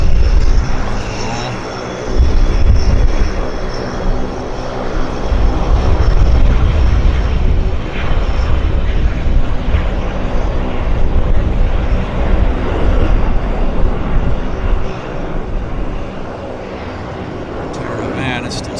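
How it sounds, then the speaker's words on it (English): A business jet departs Vancouver Airport, a sustained, rumbling engine roar that holds steady for the length of the clip, with someone talking over it. "Bizjet on the departure"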